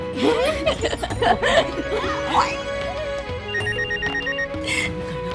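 A telephone rings with a repeating electronic tone, starting under voices and laughter, then continuing more clearly near the end.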